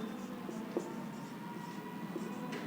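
Chalk or marker writing on a board during a physics lecture on wave optics, producing faint, intermittent taps and short strokes under a low background hum.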